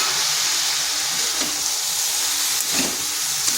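Tomato dropped into cabbage frying in a pan for a Bengali cabbage dish, giving a steady close sizzle with a couple of brief stirring scrapes, no voices.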